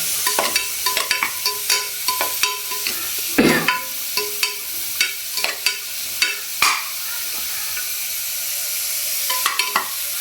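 Chopped onions sauté in a pan as a ladle stirs and scrapes them, sharp intermittent clinks and scrapes over a soft, steady sizzle.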